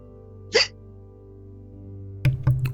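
Two to three sharp hiccups sound close to the microphone, one alone early on and a quick pair near the end, over a quiet hum.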